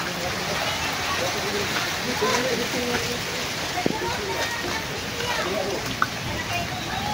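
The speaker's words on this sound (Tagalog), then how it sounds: "Yung ilog, ang lakas ng agos eh." River swollen by heavy rain rushes past in a strong current, a dense, steady roar of water with a few sharp splashes, close and continuous.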